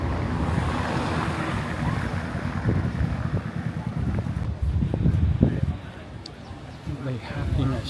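A strong, steady sea breeze gusts across the beach at Agadir, Morocco, roaring as broadband wind noise buffeting the microphone over surf, with brief louder gusts.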